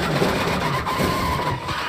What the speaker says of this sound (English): something locked up in Ranger's drivetrain as well